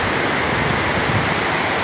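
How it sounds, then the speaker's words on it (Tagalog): Rushing river water tumbles over many small falls, a steady, dense roar that holds evenly throughout, close by and with no voices. "Ang dami nga niyang falls oh."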